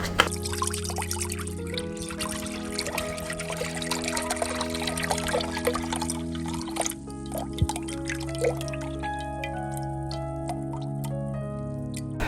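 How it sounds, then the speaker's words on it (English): Beef broth, 32 ounces, is poured into a crock pot, giving soft dripping and splashing liquid sounds beneath steady background music. "I'm going to put my broth and canned stuff in real quick."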